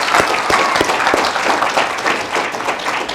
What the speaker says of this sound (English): Big round of applause for this group.